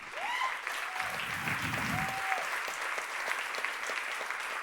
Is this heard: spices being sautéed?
no